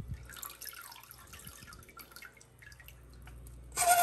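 A turkey baster squirts baby brine shrimp into aquarium water, making soft drips and trickles near the mic that end in a louder splashing gush.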